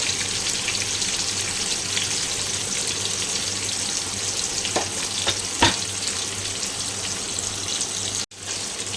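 Chili, ginger and garlic paste frying in a pan for an Agri Koli clam curry, a steady loud sizzle with a few brief stirring scrapes partway through, no talking.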